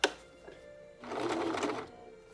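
Sewing machine stitching a seam on a fabric no-fog face mask, with a short mechanical clunk followed by roughly a second of steady, fast needle whirring, close and moderately loud.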